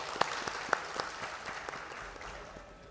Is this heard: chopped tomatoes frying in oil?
no